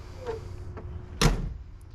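A rear door latch lever on a 1961 Imperial is pushed down, giving one sharp mechanical clack at close range, with a couple of faint clicks before it.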